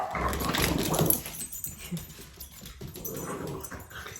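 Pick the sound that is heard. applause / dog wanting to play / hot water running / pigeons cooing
dog wanting to play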